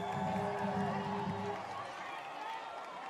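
Crowd noise at a high school football game between Alta and Highland, a broad steady roar of cheering spectators with a sustained tone early on, easing slightly partway through.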